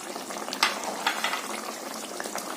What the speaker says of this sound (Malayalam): ഇനി നമുക്കിതിലോട്ട് കുറച്ച് കറിവേപ്പില ഇട്ട് കൊടുക്കണം